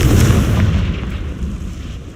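A Confringo fire spell blasts in Hogwarts Legacy, a single loud, close, booming explosion that rolls into a fading rumble with no voices over it.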